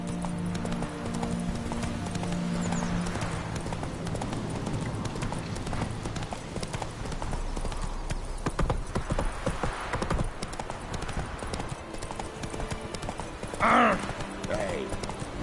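Roach the horse gallops in a video game, hooves beating a fast, steady clip-clop close up, with a short whinny near the end and a voice talking over it.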